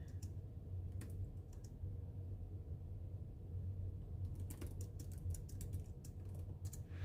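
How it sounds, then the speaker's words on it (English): Computer keyboard typing in a quiet room, soft scattered key clicks in short bursts over a low background rumble, fairly faint and with no talking. "Apparently I can't talk and type anymore."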